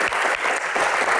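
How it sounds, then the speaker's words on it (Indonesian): Audience applause at a live Q&A event, dense and steady clapping from a crowd throughout, with no talk over it. "tepuk tangan buat Gian."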